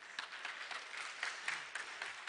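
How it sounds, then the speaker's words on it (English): Applause from a church congregation, a steady mid-level patter of many hands with a few sharper claps poking through, fairly distant and continuing without any talk over it. "they deserve a round of applause for that"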